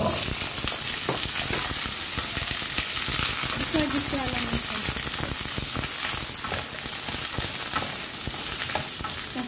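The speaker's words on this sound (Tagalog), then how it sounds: "Yan, nag-brown ang garlic. Lagay natin ang ating gulay." Mixed vegetables hit a pan of browned garlic and fry with a loud, continuous sizzle, with stirring clatter and a quiet voice briefly under the crackle.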